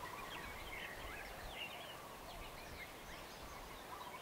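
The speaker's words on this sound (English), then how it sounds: "you can hear the birds this morning" Birds call and chirp faintly in the distance at sunrise on Kailua Beach, scattered high calls over a steady wash of surf and wind noise, with no talk.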